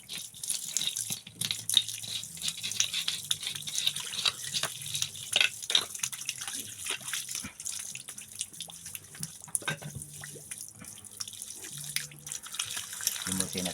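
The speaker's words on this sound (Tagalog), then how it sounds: "magdamag lang yan nakatulo." Water running nonstop from a tap and dripping into a basin, a continuous splashing trickle with scattered drips and light rattles, fairly close.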